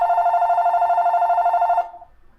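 A telephone bell rings in one continuous trilling burst, loud and close, then cuts off and decays into quiet.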